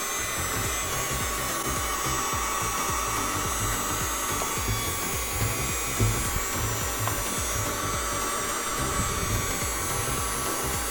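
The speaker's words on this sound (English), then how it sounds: "I'm going to start applying a little bit of heat now." A heat gun blows a steady, loud rushing whoosh of hot air while softening 3M vinyl wrap on the interior trim of a Fiat Barchetta, running continuously up close with slight shifts as it moves.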